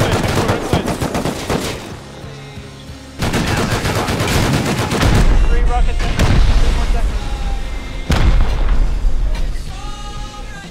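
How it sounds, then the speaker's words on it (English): Rockets and gunfire in a large-base raid in the survival game Rust, set on a snowy map: several loud, sharp bursts with booming blasts around them, layered with dense shooting throughout. "Going back to more rockets."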